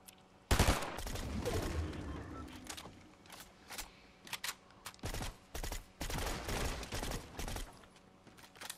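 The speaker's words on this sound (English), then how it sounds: "They're shooting behind us as well." Bursts of gunfire in a Fortnite match, a loud close shot followed by repeated clusters of rapid shooting over a continuous game-sound bed, with no speech over it.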